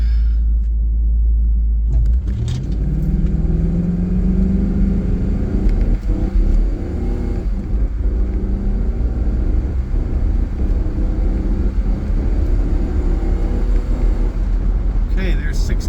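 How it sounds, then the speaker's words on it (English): A restored 25-year-old truck pulls away from a traffic light and accelerates from 0 to 60 mph, its engine rumble rising steadily in pitch through the gears, loud and continuous inside the cab. "let you hear what sounds like to go 0 to 60"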